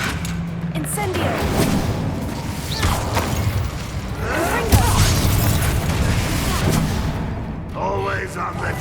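The Incendio fire spell is cast during a duel in Hogwarts Legacy, with repeated fiery bursts and booming whooshes in a busy battle mix, under voices talking.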